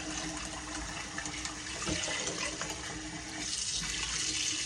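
Water runs steadily from a kitchen faucet while raw chicken is rinsed under it, a continuous splashing hiss with small shifts as the stream hits the meat, and no one speaking.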